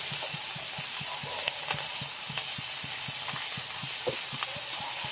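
Vegetables for bam-i noodles sauté in a pan with a faint steady hiss, broken by quick regular taps and scrapes as they are stirred.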